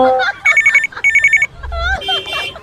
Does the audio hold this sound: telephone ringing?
yes